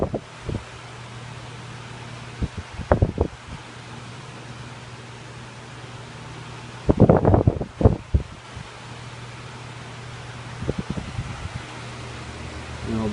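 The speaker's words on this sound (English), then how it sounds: "And here's high with oscillation." A 1981 Lakewood 12-inch table fan, model 1200, running on high while oscillating, a steady airy whoosh with a low motor hum, broken by several louder gusty rustles and bumps.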